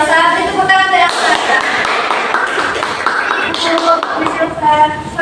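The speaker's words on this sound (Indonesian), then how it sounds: "Beri tepuk tangan untuk Elsa" Students in a classroom clapping for a classmate, a loud stretch of quick, overlapping handclaps close by, with a voice speaking over and around them.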